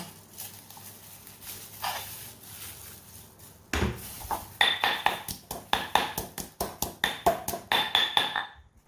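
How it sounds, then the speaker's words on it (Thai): A knife slices through coriander root on a cutting board, a fast run of sharp, close taps in steady rhythm after a quieter opening. "ป้าก็จะใช้รากผักชีเนี่ยค่ะหนึ่งรากนะคะ ซอยลงไปค่ะจะได้แบบว่าโขลกได้ง่าย ๆนะคะ"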